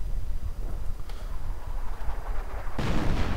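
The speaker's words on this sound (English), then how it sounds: "And artillery opening up." Distant artillery fire in a WWII strategy video game, muffled low booms rumbling over a dull battlefield bed, ending in a sharper, louder blast.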